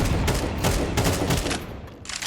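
Rapid gunfire in Counter-Strike 2, with bursts of shots hitting walls, dense and loud with overlapping rattling reports throughout, close and continuous with no talk.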